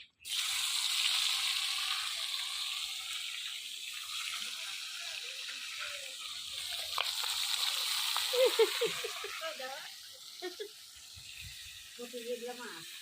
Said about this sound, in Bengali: কড়াই গরম হয়ে গেছে, তেল দিয়ে দিলাম, প্রথমে মাথাগুলো দিয়ে দিলাম।